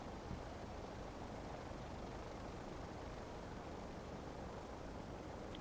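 The propeller engine of a Just Flight DR400 light aircraft warms up in X-Plane 11, giving a faint, steady, even drone with no change for several seconds.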